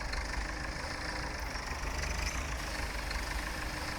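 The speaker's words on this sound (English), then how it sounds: "here's the loader tractor" A loader tractor engine runs steadily in a field, a constant mid-pitched idle-like drone with no talking over it.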